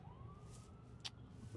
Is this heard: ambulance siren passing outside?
yes